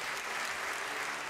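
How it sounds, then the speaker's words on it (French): A large audience applauds at the European Inventor Award ceremony, a dense, even roar of clapping that fills the whole moment without a break, heard from a distance in a big hall. "Et encore un tonnerre d'applaudissements."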